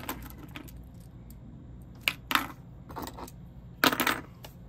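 A bunch of keys on a D-ring jingles in several short metallic bursts, close by and fairly quiet, separated by soft handling noise.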